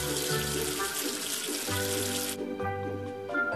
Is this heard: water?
yes